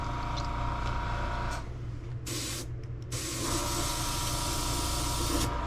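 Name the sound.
airbrush hissing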